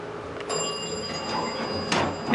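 An old Dover passenger elevator door in an Arlington, Texas office plaza slides shut with a steady low rumble and faint mechanical rattle, ending with a soft thud, heard close in a quiet cab.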